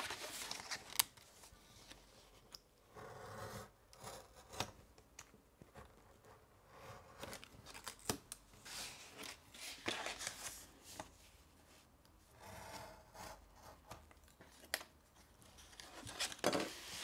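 Paper being cut with scissors while making the structure of a hand-sewn scrapbook album, a run of close, crisp snips and rustling that stop and start across the span, with no talking.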